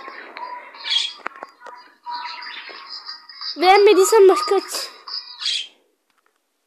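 A lovebird gives chirps and squawky calls close by, mixed with a person talking over it.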